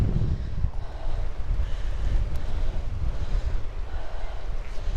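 Strong wind gusting at a harbour by the sea, a steady loud buffeting roar dominated by low rumble across the whole stretch, with no talk.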